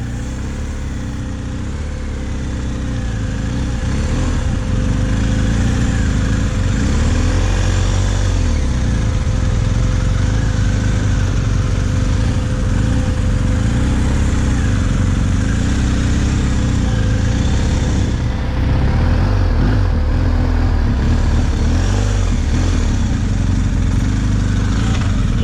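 A 250 dual sport motorcycle runs steadily through an off-road riding exercise, its mid-pitched engine drone loud and continuous, rising slightly in intensity after a few seconds and holding without talk.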